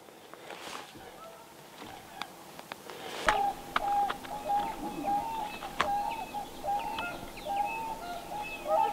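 Jackdaws call during a spring crow hunt in open country: short, sharp calls scattered across the stretch, some fairly close and others farther off, over a quiet background.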